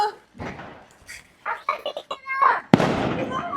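Voices talk excitedly, then a sharp loud bang bursts out, followed by crackling noise like a firecracker going off close by, during Diwali celebrations.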